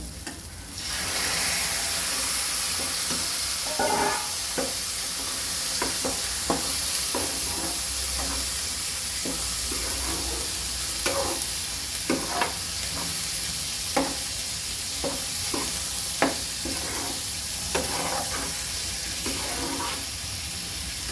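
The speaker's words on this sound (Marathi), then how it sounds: "आता ह्यात आपण घालणार आहोत हे मी उकळलेले हरभरे" Boiled chickpeas stirred and frying in a pan for a Maharashtrian chana bhaji make a continuous sizzle, punctuated by repeated spoon scrapes and taps at an irregular pace, close and steady throughout.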